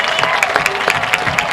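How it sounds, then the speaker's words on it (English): A crowd at a high school varsity football game applauds the Pella Christian marching band's halftime performance, a loud stretch of steady clapping with many overlapping hand claps. "The Pella Christian marching band getting some applause there as they put on the halftime performance"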